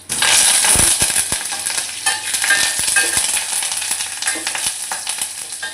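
Tempering for cabbage dal crackles loudly in hot oil, a dense sizzle broken by sharp spoon clinks and stirring scrapes, close and steady with no talk.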